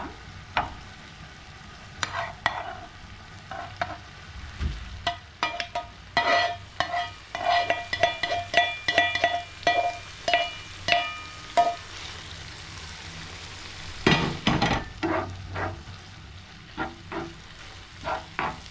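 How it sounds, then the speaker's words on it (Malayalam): Spice paste for egg rice is stirred and mixed in a hot pan, rhythmic scraping strokes of the spoon over a soft sizzle, close and clear with no talking. "നന്നായി മിക്സ് ചെയ്യാം അരപ്പെല്ലാം"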